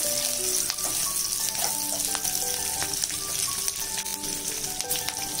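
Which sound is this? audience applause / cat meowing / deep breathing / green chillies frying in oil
green chillies frying in oil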